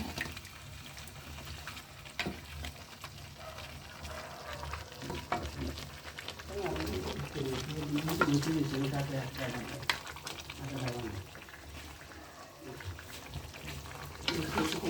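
Duck meat being sautéed with chui jhal and assorted spices, a continuous soft sizzle with scraping and stirring of a spatula in the pan, low and close, while a voice speaks intermittently over it.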